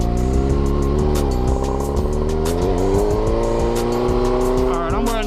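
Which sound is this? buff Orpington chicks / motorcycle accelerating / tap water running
motorcycle accelerating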